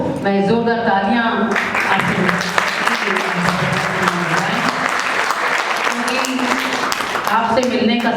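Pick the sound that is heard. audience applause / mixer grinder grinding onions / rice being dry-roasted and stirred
audience applause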